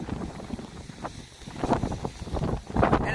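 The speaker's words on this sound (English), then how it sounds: "But windy!" Strong wind at Niagara Falls buffets the microphone in uneven, roaring gusts that swell louder toward the end, with no talk.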